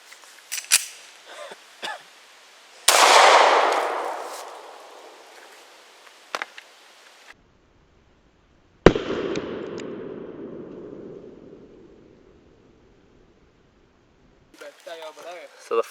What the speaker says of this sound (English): we're going to shoot 180 grain 40 Smith & Wesson Full Metal Jacket